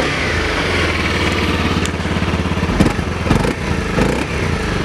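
A 2016 Honda CRF250L single-cylinder motorcycle idles close up with a steady, rapid thumping putter. A few small blips and rattles break the even beat near the end.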